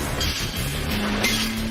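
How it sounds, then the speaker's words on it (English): Steel wire for bolts is pulled off coils through uncoiling and straightening machines in a factory, giving a steady, continuous metallic screech with a sustained tone that rises slightly, loud and unbroken throughout. "The screeching sound you hear is the noise the wire makes as it's pulled through machines that uncoil and"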